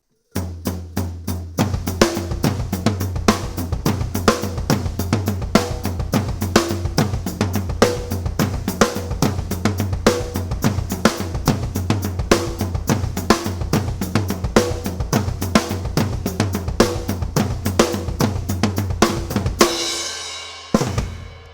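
Tom-driven drum groove with the right hand riding a steady eighth-note ostinato on the floor tom, dense and continuous for about twenty seconds before a brief cymbal-like wash at the end, played alone without talk.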